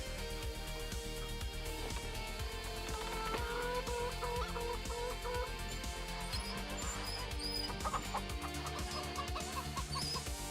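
Chickens cluck in Farming Simulator 25 on a game farm with livestock, a dense steady bed of game music and ambience running throughout with the clucks mixed in underneath.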